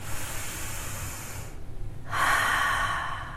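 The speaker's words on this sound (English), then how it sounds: "to take a deep breath throughout your day" Deep breaths filling the lungs, close and audible: a long airy exhale, a short pause, then a stronger inhale.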